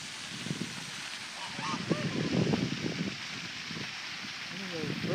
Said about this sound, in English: Some of those birds are really noisy. The ducks and the Canadian goose.